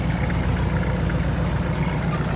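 A tractor engine idles steadily, a close, continuous low rumble with a regular throb and no speech over it.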